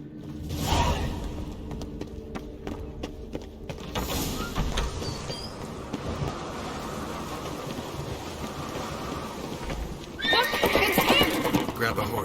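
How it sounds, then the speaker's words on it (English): Horses galloping in the video game The Witcher 3, steady hoofbeats and a whinny under game voices, with a louder rush of hooves and clatter near the end. "Grab a horse, we'll chase him down."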